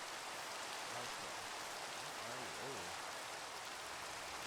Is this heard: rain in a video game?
yes